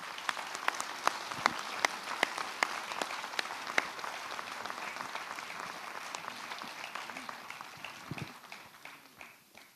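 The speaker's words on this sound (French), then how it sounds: "Merci pour les applaudissements." Applause fills a French community council installation meeting in Roissy Pays de France, a crowd of sharp claps, dense at first, then thinning and fading over several seconds.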